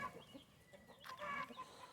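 Backyard chickens settle low by their coop for dust baths, giving soft, intermittent clucks and murmurs at close range, with a slightly louder burst of calls partway through and faint outdoor background, no talking.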